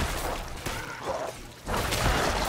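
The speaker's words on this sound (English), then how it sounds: "explosion." An explosion in Diablo 4, a broad noisy burst with a whooshing crash that swells again near the end, loud and up close, with no voices over it.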